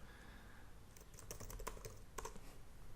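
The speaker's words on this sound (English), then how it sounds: "we'll just type in WordPress plugin download" Keys clatter on a computer keyboard as a search for a WordPress plugin download is typed, a short burst of quick, close taps over a quiet room hum with no talking.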